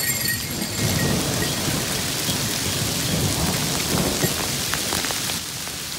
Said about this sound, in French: Il y a un bruit de fond d'orage.